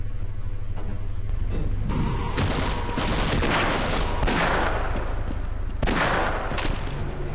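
Bursts of Half-Life video game gunfire, rapid repeated shots and a sustained fusillade, loud and dense throughout with brief pauses between volleys.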